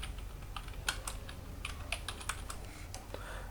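Someone types on a computer keyboard in a quiet room, making a fast, uneven run of soft, close key clicks with a few sharper taps.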